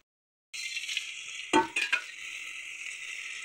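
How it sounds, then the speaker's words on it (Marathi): Oil heats in a cooking pot while mutton curry is being made, a steady soft sizzle starting abruptly after a silent moment, with a brief metallic clink and stir of the utensil partway through. "या पातेल्यामध्ये तेल गरम करू।"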